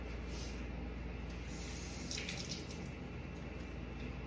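Tap water runs steadily into a sink while a handful of blueberries are rinsed, a constant close splashing rush with faint drips and no voices.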